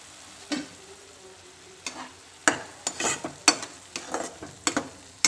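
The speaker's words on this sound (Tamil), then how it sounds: "கடுகு வெந்தயம் பொரிஞ்சதும் நம்ம அரைச்சு வச்ச மசாலாவை இதில் ஆட்" Mustard seeds and fenugreek spluttering in hot oil as ground masala goes in for a dry fish gravy with raw mango: scattered sharp pops and sizzling crackles, close and irregular, growing busier partway through.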